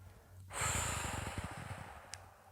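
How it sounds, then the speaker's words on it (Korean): A close, audible Pilates breath during a single-leg stretching-band exercise: a sharp airy intake followed by a longer, textured exhale, over a faint room hum. "들이마시고 내쉬고 둘 들이마시고 내쉬고"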